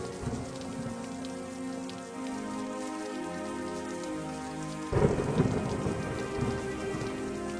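Rain falls steadily during a village monsoon shower. A rumble of thunder swells partway through, and the downpour grows louder afterward.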